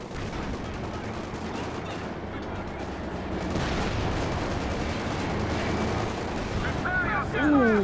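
Panzer IV tank cannon fire in a Company of Heroes battle, among a steady din of gunfire and explosions, with a commentator talking over the action.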